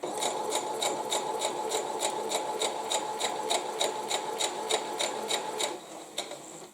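Sewing machine stitching a quilt, a steady run of quick, even mechanical ticks at close range that stops near the end.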